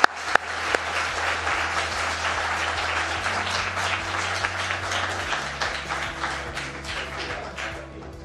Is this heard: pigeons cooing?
no